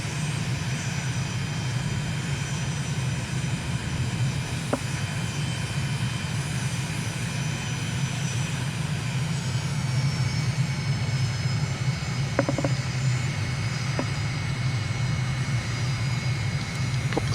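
A steady aircraft engine drones on a landing approach in Microsoft Flight Simulator near Delhi, a constant loud hum with faint whining tones and a few brief clicks, no voices.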